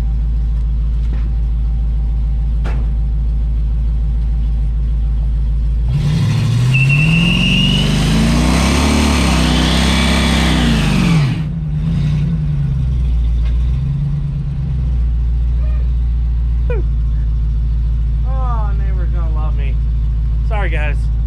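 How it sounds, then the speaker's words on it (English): An old pickup truck with a patina finish, fitted with new wheels, does a burnout. Its engine roars in a loud, rising rev for about five seconds, then drops back to a low idle rumble. "Should we do a final burnout on these wheels?"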